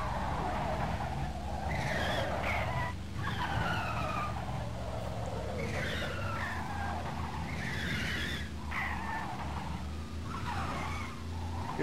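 A big truck skidding and sliding on ice in the Carmageddon video game, with repeated squealing tire skids over a steady engine drone, loud and continuous.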